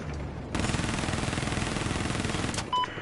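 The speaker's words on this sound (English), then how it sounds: "Somebody shot at me. Hostile sniper over there." Gunfire rattles in a video game firefight as a dense, sustained burst of rapid shots for about two seconds, then stops abruptly before a brief metallic clink.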